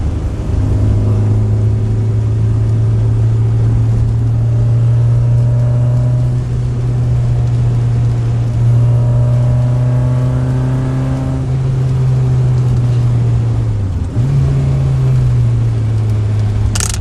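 An Integra on new coilovers drives along a road, its engine droning steadily from inside the car with a brief dip and a shift near the end, loud and continuous.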